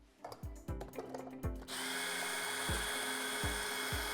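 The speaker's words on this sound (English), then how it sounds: "And then you pre-drill." A power drill pre-drilling holes for a clamping strip on a safety frame whirs in short bursts with ratcheting clicks, then settles into one long, steady high-pitched drilling run.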